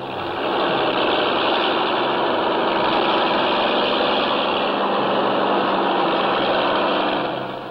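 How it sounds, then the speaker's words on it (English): Heavy earth mover engines labouring in deep sand on an airstrip construction site, a steady loud diesel drone and rumble continuing throughout without pause. "Sand so deep, even powerful earth movers bog down."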